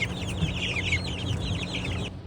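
Chickens clucking on a farm, including a young chick settling in among the flock, with busy overlapping clucks and chirps close by, steady throughout before fading at the end.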